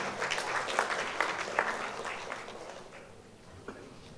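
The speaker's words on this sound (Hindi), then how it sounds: "एक बार जोरदार ताली हो जाए" Clapping from an audience at the Golden Achiever Awards 2016 ceremony starts fairly loud and close, then gradually thins and fades, ending with a few scattered claps.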